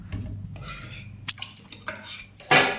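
Lentils for dal are tipped into a pot of tamarind pulp, giving a short run of close clatters, scrapes and stirring sounds from the pot and utensils, ending in a louder rush.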